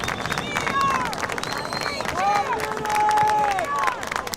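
Grand Rapids Christian Eagles fans standing and cheering in the stands at a high school state final soccer match, a steady roar of crowd noise with whistles and shouts throughout, loud and close.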